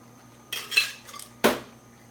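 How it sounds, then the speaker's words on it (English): Ice scooped into a cocktail shaker while mixing an espresso drink, heard as two short clattering rattles about a second apart, the second sharper and louder, with quiet pauses around them. "I'm going to take a scoop of ice in a cocktail shaker"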